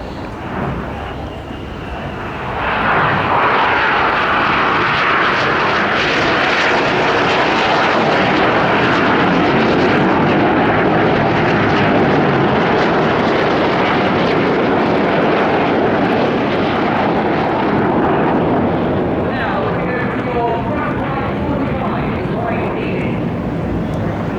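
Red Arrows jet aircraft flying a rolling display at Bournemouth roar loudly and continuously overhead, the engine noise swelling after a quieter opening and holding strong throughout.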